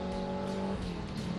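A stock Ford GT makes a quarter-mile drag run at Toronto Motorsport Park, its engine a loud, steady, droning tone that shifts pitch briefly, heard alone.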